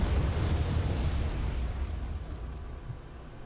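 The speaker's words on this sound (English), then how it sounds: "Another bombing run." Explosions from a bombing run in the Wargame: Red Dragon battlefield, a heavy, sustained low rumble that rolls on and gradually fades, loud and without voices.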